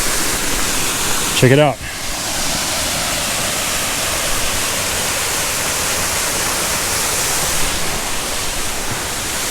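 River Falls in Shenandoah roars as a steady, loud, broadband rush of falling water, with a person speaking briefly near the start.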